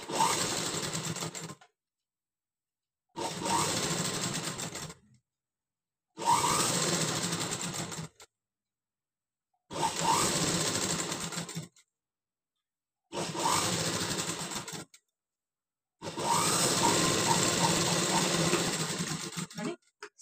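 A sewing machine stitches a garment sleeve in six separate runs of steady mechanical whirring. Each burst lasts one to four seconds and is split by short silent pauses, with the final run the longest. The machine is heard close up with no talk.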